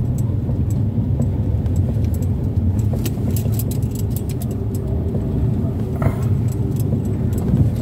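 Continuous road traffic on a street, a dense low engine rumble with a passing vehicle and faint metallic rattles and clinks riding over it, fairly close and steady throughout.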